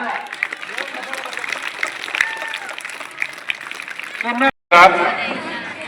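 Audience clapping at a hobli-level event held on a school campus, continuous scattered applause from a crowd under a loud announcer's voice, briefly cutting out before resuming.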